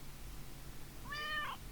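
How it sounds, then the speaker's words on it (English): A house cat lets out a single rising-and-falling meow, close and fairly clear, after a moment of quiet indoor room tone. "I'm greeted by a passionate meow."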